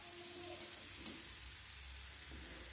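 Chopped ridge gourd sizzles faintly in a pan as it is stirred, a soft continuous hiss with a low hum beneath and one small clink partway through.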